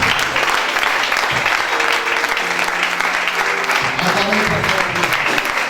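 A church congregation claps and cheers for several seconds, dense continuous applause with voices shouting and ringing out above it, loud and close throughout.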